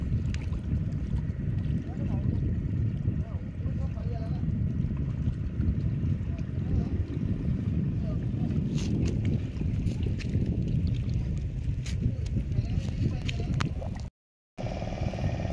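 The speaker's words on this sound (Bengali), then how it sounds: "দেখো কি আওয়াজ আসছে, দেখো। স্পিড বোট রয়েছে একটা, আর একটা বোট রয়েছে নর্মাল বোট।" A speedboat and an ordinary boat move on a river near the beach, giving a steady low engine drone and water wash with wind, under continuous nearby talking.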